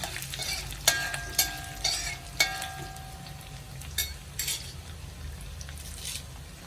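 Dried red chillies and grated coconut roasting in a pan for a horse gram thoran give a low, steady sizzle, broken by several sharp spatula scrapes and clinks as they are stirred close up.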